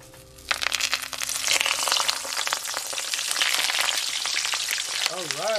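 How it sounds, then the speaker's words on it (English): Stuffed, wrapped fish dropped into hot oil, setting off a loud, steady sizzle and crackle of frying that swells after a brief quiet start and carries on without pause. "We're gonna take our wrapped fish and put it in our oil."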